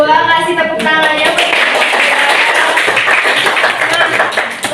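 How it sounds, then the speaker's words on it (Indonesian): A classroom of students applauds together, dense steady clapping near and loud for nearly five seconds, with voices mixed in underneath. "Kasih tepuk tangannya"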